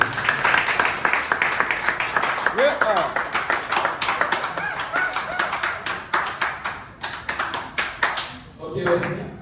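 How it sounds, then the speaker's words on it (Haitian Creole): A small crowd claps and taps at an award celebration, a brisk run of overlapping handclaps lasting several seconds before fading, with voices mixed in throughout. "Demandez-nous un petit bravo avant de commencer."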